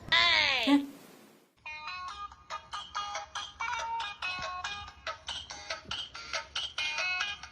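A mobile phone ringtone plays a bright, repeating melodic tune of rapid electronic notes, clear and close, following a short burst of speech at the start.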